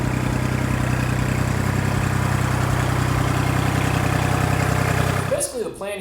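A tractor engine idles steadily and loud in the foreground with an even low rumble, used with pallet forks to lift a motorcycle, then cuts off near the end.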